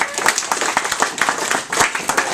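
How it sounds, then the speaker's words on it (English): A small audience at a journalism session gives a round of applause, with sparse, distinct claps in an uneven rhythm that swell and dip over a couple of seconds, close and fairly loud. "So a round of applause for everybody."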